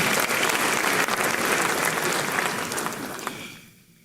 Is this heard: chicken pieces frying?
no